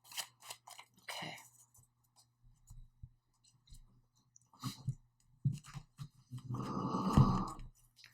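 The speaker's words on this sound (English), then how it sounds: "If you hear snoring, that's my pug." A pug snores nearby in a quiet room, one raspy snore near the end after soft intermittent rustles and clicks.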